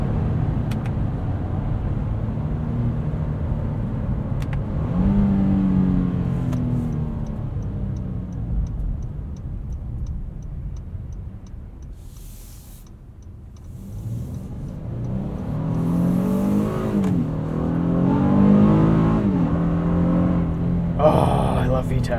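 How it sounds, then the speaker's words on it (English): A 2024 Honda Passport Trailsport's VTEC engine accelerates hard from inside the cabin, revs rising and falling through several gear changes, with a ticking indicator and someone speaking over it. "Basically the engine of a sports car in an SUV."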